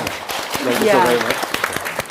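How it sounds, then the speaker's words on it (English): An audience applauds panelists at a live discussion on Confucian education, a short burst of clapping with voices and a tonal sound rising through the middle. "One more round of applause for,"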